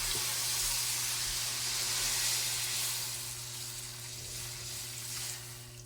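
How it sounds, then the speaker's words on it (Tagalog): Water poured into a hot pan of frying shrimp gives a loud, broad rushing hiss that swells at first, then settles into a softer, steady simmering sizzle. "Lagyan natin tubig."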